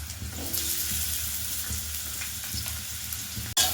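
Potatoes and other vegetables such as radish and taro frying in a hot pan with browned chilies, giving a loud, continuous sizzle throughout, with a brief clatter right at the end.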